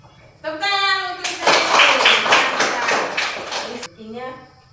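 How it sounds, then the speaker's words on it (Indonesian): Rhythmic group clapping at an Indonesian gathering, a burst of steady, fairly loud claps lasting a few seconds between stretches of speech, with children's voices around it. "Tepuk tangan untuk"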